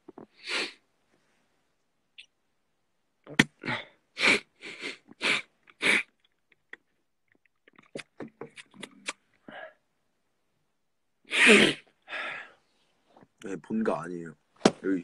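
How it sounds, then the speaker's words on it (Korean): A person sneezes indoors during a live stream, a sharp loud burst near the end that comes among scattered bursts of close speech and breathy sounds separated by silence. "지금 재채기 할 준비하고 있어가지고"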